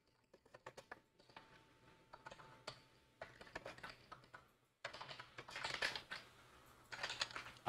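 Close, quiet typing on a computer keyboard, with irregular bursts of key clicks separated by short pauses, getting busier and denser toward the end.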